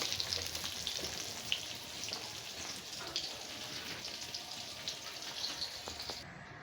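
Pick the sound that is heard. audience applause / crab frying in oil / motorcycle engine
crab frying in oil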